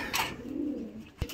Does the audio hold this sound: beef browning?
no